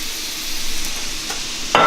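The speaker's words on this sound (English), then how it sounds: "Going to add a splash of that to our pan. Hear that sizzle?" Pinot Noir wine splashed into a hot pan where steak has been cooking, a steady hissing sizzle throughout with a sharper burst of frying as more liquid hits the pan at the end.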